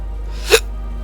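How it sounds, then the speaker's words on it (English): A single short, close hiccup from a person, one abrupt burst over a steady low hum. "Hiccups."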